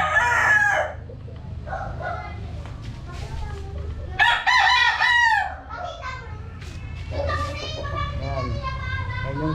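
A gamecock stag crows in repeated cock-a-doodle-doo calls nearby, with other fowl clucking and children's voices chattering in the background.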